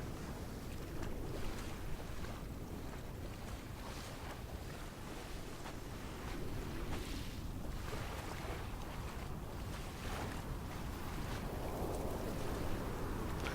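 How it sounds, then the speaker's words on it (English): Wind and water ambience from the game Dear Esther: a continuous, quiet wash of surf and breaking waves under gusting coastal wind, with no voices. "the sound in this game with the wind and the water, they really did a good job"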